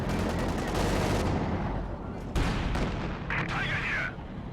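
Indirect artillery fire in the video game Company of Heroes 2, heavy booms and crackling gunfire rolling over one another, with a voice speaking briefly near the end.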